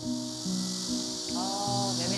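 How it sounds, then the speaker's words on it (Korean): A steady, dense high-pitched buzzing of cicadas along the Han River bank in Seoul fills the background, continuous throughout with a low hum underneath. "매미 소리."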